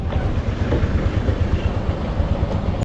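A Darjeeling Himalayan Railway train, beside a restaurant car in the Darjeeling bazaar, gives a steady, loud rolling rumble with a clattering rail texture that stays constant for about three seconds before cutting off.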